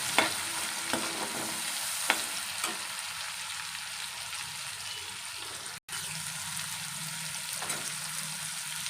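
Chopped tomatoes frying in a pan for a dhaba-style mutter paneer, a continuous soft sizzle with a few stirring scrapes and clicks, close and steady with no talking.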